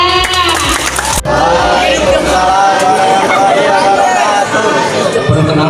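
School student council candidate debate audience in a hall, a loud dense crowd of clapping and cheering that swells and holds, mixed with chatter and a voice over a speaker system at the start.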